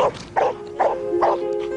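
A dog barks four times in an even rhythm, each bark short and moderately loud at fairly close range, with a faint steady tone underneath.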